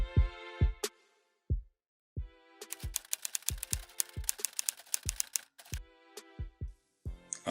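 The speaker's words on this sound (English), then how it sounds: "Now let's decorate it by adding a typing sound effect." A typewriter sound effect for a video title animation: crisp mechanical key strikes tapping in an uneven rhythm, with a dense rapid burst in the middle and a few sparse clacks at the start and end.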